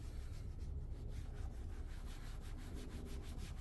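Restorer product being rubbed by hand into a faded car bumper, giving a steady, close, continuous scrubbing swish with rhythmic strokes and no speech.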